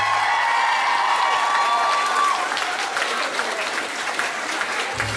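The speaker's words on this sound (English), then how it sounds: "Give him a round of applause." A small audience at Tullow RFC gives a rugby player a warm round of applause, steady dense clapping that slowly thins out, with a voice briefly audible under it.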